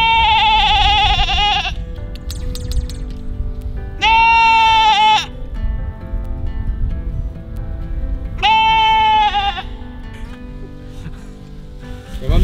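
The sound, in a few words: goat bleating loudly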